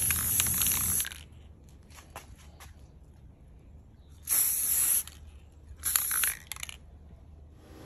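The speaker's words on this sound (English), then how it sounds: "I take this silver color paint and just spray paint the back of it" Three short bursts of silver spray paint hiss from an aerosol can onto the back of an acrylic piece, separated by quiet pauses with faint handling sounds between them.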